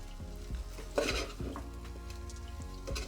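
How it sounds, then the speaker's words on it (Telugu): Rice being fried and stirred in a pan for spicy prawn pulao, with a steady close sizzle under several scraping stir strokes and a louder clatter of the utensil near the middle. "రైస్ని వేపాలన్నమాట ఇలాగా"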